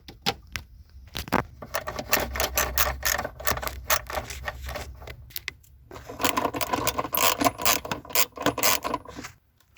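A ratchet wrench loosening a bolt beside the steering wheel of a 2001 Jeep Grand Cherokee during heater core removal, fast rasping clicks in long close bursts with a short pause, then a second burst before stopping.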